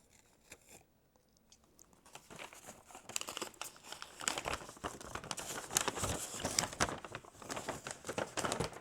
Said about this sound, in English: I almost don't want to unwrap it because look how neat it is.